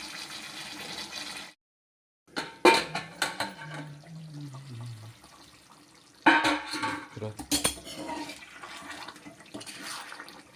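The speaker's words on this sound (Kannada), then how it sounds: "ಸ್ವಲ್ಪ ನೀರು ಹಾಕೋಣ" Water splashes into a pan of dhaba style chicken in two bursts, separated by quieter moments with some voice and clatter in between.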